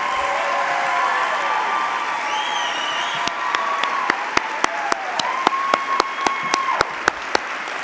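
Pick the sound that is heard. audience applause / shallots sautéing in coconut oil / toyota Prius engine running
audience applause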